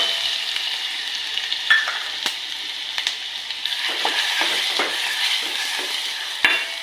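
Ground spice paste frying in oil for an ambadi leaf dish, a steady close sizzle broken by several sharp spatula scrapes and taps against the pan.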